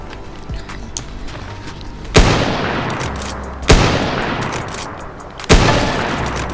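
Three loud sniper rifle gunshots in the video game Roblox, spaced about a second and a half apart, each a sharp crack with a long decaying tail over steady game background noise.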